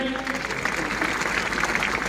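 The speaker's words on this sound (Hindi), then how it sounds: "हमारे नौनिहालों का एक बार जोरदार तालियां बजाएं" Applause for schoolchildren at a school annual function, a steady, fairly loud wash of clapping from a crowd that fills the whole stretch, with voices mixed in.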